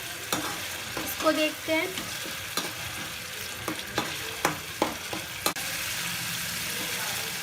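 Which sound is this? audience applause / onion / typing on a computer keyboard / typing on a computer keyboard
onion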